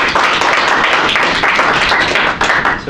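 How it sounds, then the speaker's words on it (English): An audience applauds a presentation on greywater irrigation, dense continuous clapping from many hands filling the room at a steady loud level, with no speech over it. "give them a round of applause"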